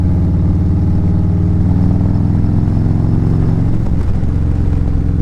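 A Harley motorcycle engine in stock mode rumbles loud and close during a ride, with a deep, continuous throb and subtle shifts in pitch as the rider holds steady speed.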